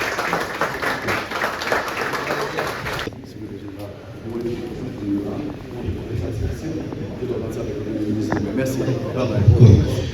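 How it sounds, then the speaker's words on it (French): Crowd applause at a French-speaking ceremony installing a ministry department director, a dense burst of clapping for about three seconds that then fades into murmuring room noise and scattered claps. "Sous le cri de vos acclamations."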